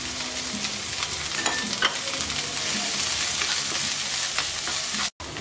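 Chopped onion and green chillies frying lightly in a pan, a close continuous sizzle with soft stirring scrapes and no voices, cut by a brief dropout near the end.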